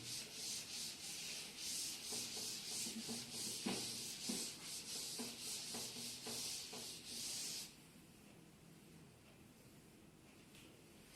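A board is wiped clean of ray diagrams in a physics lesson, producing a steady, close rubbing and scrubbing with rhythmic strokes for several seconds before it fades to quiet room tone, with no speech.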